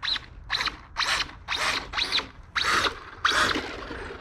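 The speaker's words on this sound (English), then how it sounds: "kind of sounds like my gear a little bit" Gear noise from a Traxxas Slash 4x4 VXL RC car on paddle tires in sand, heard as a series of seven sharp ratcheting whirs in quick bursts, close and loud with no talk.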